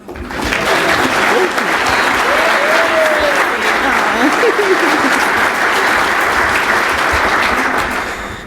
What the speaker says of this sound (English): Can we give a big round of applause for Giovanna?